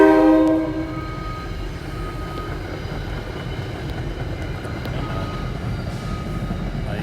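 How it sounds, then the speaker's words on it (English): A train pulls in near Stonehenge, its loud horn sounding at the start before fading into a steady low rumble and rolling rail noise that continues to the end, with no talking. "That's another train coming in."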